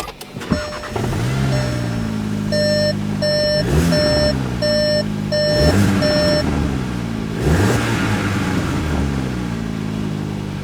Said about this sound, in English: Let's start it up and make sure there's no leaks or anything,